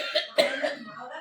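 A person coughs in a short, hoarse burst of two or three close, moderately loud hacks that trail off into a breathy rasp, heard near a railway station.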